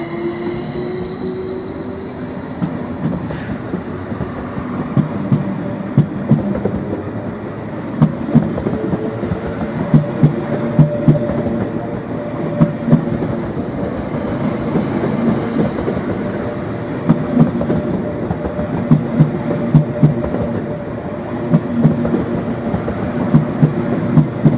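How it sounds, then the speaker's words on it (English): A passenger train, the 1600 service to London, pulls out of Norwich station with a loud, steady rumble, rhythmic wheel clicks over rail joints and faint high squeals, with no voices. "(74507) is now heading back to London as the 1600 departure"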